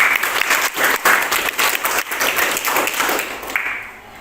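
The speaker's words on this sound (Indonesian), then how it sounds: "Ya, tepuk tangan untuk Daniel." A class of students applauds for a classmate during a drama lesson, with dense, steady clapping that swells and then tapers off toward the end.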